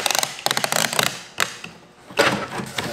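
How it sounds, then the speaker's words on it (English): Packing tape pulled tight off the roll and pressed onto a moving box for a lampshade, giving a series of sharp crackling, ripping bursts with brief pauses between pulls, close and fairly loud. "We'll take our tape, always start in the middle, leaving a 2 to 3 inch overhang, pull tight"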